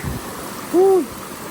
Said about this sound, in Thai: ที่บอกเป็นน้ำตกที่ท่านศิลป์น่งสมาธิอยู่ที่นะ สวยมากน้ำไหลมา